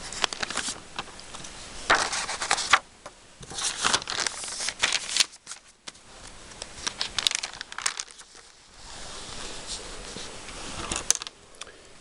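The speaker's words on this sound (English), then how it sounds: "This is carbon paper in blue." Blue carbon copy paper in a paper customer receipt book is handled up close, with crisp crinkles, rustles and crackles coming in irregular bursts and brief pauses.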